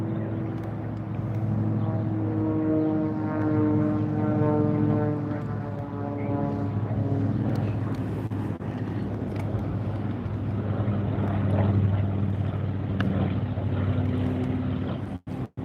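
Warbird airplanes fly at the Oshkosh airshow, giving a steady, droning propeller-engine rumble with layered harmonic tones. The drone holds fairly constant and moderately distant throughout, with a few faint clicks near the end.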